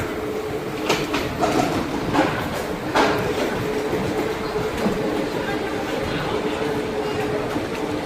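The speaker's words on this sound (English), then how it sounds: "this is the train we're getting now" A Swiss local train bound for Andermatt rumbles steadily with a low hum and occasional clunks and door clatter, a voice faintly heard nearby.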